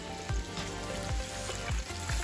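Basa fish fillets fry in hot grease with a steady, close sizzle, broken by several sharp pops spaced roughly every half second, and no voices over it.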